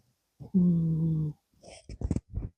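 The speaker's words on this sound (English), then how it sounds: "I'm really hoping you can hear her cute little snores through the microphone" A cat asleep indoors gives one drawn-out, close snore-like breath, followed by quieter rustles and short snuffling sounds, no talking.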